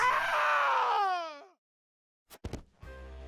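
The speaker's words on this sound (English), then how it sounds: "those fucking Wilhelm screams" A Wilhelm scream in the video game Triangle Strategy: a loud, drawn-out wavering shriek lasting over a second, then a short silence and a few sharp thuds and clipped voice sounds.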